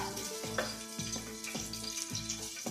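Refined cooking oil heating in a pan for a Tamil chicken curry makes a soft, continuous low sizzle with faint crackles and a gentle repeating bubbling pulse, fairly quiet and with no talk.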